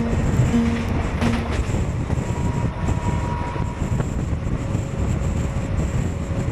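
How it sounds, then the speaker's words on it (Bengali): The Kanchanjungha Express runs past Prantik station just beyond Bolpur, giving a steady, loud rumble and rail roar heard from on board, with faint whistle-like tones and no talk. "আর আমাদের ট্রেন এখন ছুটে চলেছে প্রান্তিক স্টেশনের উপর থেকে"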